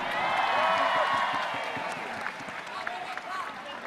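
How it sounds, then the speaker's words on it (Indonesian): Applause and cheering from a large political rally crowd in Surabaya, a dense wash of clapping and shouts that swells early and slowly fades, with scattered louder claps and a voice over the crowd. "Tepuk tangan untuk Surabaya."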